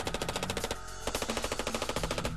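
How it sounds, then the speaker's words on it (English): An M16 rifle fires on full auto in a loud, rapid stream of shots, broken once by a brief gap before the burst resumes. "And since the bolt isn't being jostled around by a piston, it returns faster, which means the M16 can fire faster."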